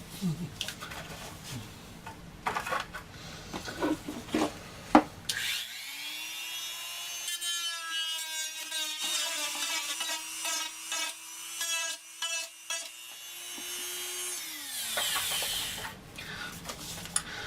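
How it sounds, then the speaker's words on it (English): A drum sander works a wooden tractor-style planter, giving scraping, rubbing bursts and then a sustained whirring grind with a steady humming tone that runs for several seconds before stopping, followed by more scraping handling noises. "So when you're pulling your drum sander through, it rotates this way."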